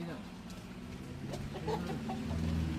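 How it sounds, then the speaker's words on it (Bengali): A rooster in a rainy village gives a few short, soft clucks toward the end, heard over steady background noise while people talk nearby. "মোরগ, তাই তো?"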